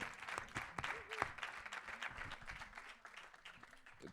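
A conference audience applauds in a lively, continuous spatter of clapping that fades a little toward the end, with a few voices calling out over it.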